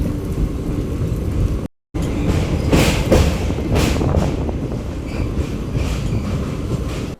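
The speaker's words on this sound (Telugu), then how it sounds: "ఈ రైల్వే బ్రిడ్జ్ చూడడానికి బాగుంది" Special train no. 07219 rolls steadily over a railway bridge, a dense continuous rumble with rhythmic thuds of wheels on the rails, heard close and loud, with one brief dropout.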